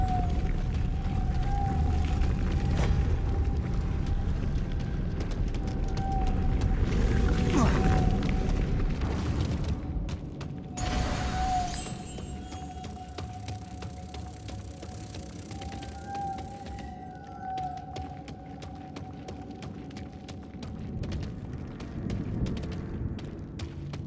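A spinning mechanism turns to raise a stone platform in Hogwarts Legacy, a steady grinding rumble with a sustained tonal hum running throughout, loud and continuous, with some brief knocks and shifts partway through.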